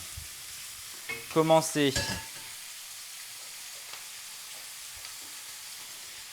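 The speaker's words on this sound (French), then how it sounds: "je vais rajouter mes oignons" Onions frying in a pan during a chef's cooking show: a soft, steady sizzle with some stirring, close by. A person speaks briefly early on.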